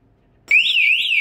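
An e-bike anti-theft alarm blares loud and close after a brief quiet start, a continuous warbling siren rising and falling steadily until the end.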